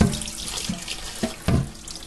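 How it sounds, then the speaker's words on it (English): Cold water runs from a tap into a pot, a soft steady splashing with a few louder gurgles, brief and fairly quiet. "I'm going to get cold water and I'm just going to cover the chicken"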